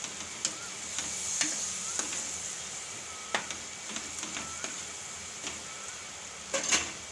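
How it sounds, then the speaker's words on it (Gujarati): Ridge gourd tipped into a pan of cooking potato curry and stirred, with steady frying sizzle underneath and a scattering of sharp spoon scrapes and taps against the pan, the loudest cluster near the end. "તો હવે આપણે આ આપણા તુરિયાને એવું નાખી દઈશું હવે બધું મિક્સ કરી લેવું"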